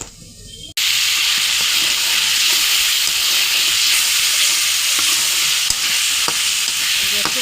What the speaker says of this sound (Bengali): খুব সুন্দর মতো মশলাটা এখন কষানো হয়ে গেছে।